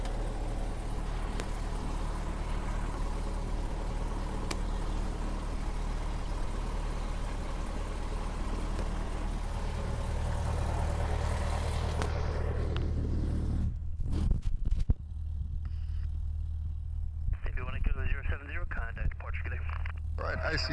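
In the cockpit of a light aircraft, the engine idles at 1,000 RPM as a steady, close droning rumble. Intercom voices talk over it before the sound cuts off and gives way to quieter cockpit noise.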